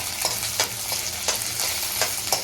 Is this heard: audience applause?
no